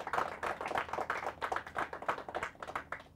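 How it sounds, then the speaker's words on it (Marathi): An audience claps to congratulate the Goa team at a Marathi quiz semi-final, a moderate burst of rapid, steady clapping from a smallish group, fairly faint and without talk. "जोरदार टाळ्या वाजवून आपण त्यांचं अभिनंदन करूया."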